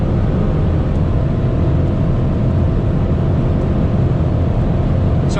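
Interior drone of a BMW Alpina B5 Biturbo V8 at speed, a loud, steady low engine rumble mixed with road and wind noise, continuous and unchanging.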